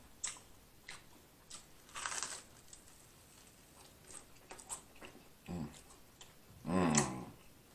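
Cheesy garlic bread being chewed close to the mic during a mukbang: quiet, intermittent wet bites and squishy chewing bursts, a louder crunchy bite near the end, no speech.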